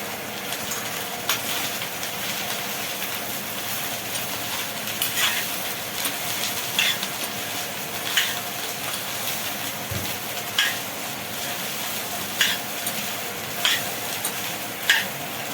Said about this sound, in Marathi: ह्याला मी मिक्स करून घेते